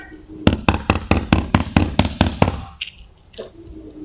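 Knocking on a trailer door during a police check, ten sharp, evenly spaced loud raps in quick succession, followed by a brief quieter pause with faint movement.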